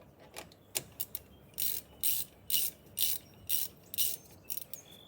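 Ratchet tightening brake caliper bolts on a Jeep Compass: a few light clicks, then a regular series of about eight loud rasping ratchet strokes, each lasting roughly a quarter second, close and without voices.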